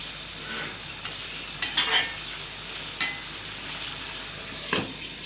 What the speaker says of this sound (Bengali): ভালো করে নাড়াচাড়া দিয়ে একটু ঢেকে দিচ্ছে